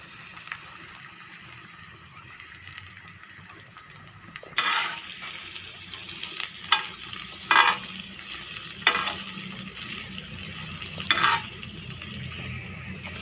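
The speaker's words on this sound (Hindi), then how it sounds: "अब तवे के ऊपर घी डालेंगे और उसके अंदर प्याज डाल देंगे।" Onions frying in ghee on a tawa give a soft continuous sizzle, punctuated by several louder scraping stirs of a spatula at irregular intervals, close and moderately loud.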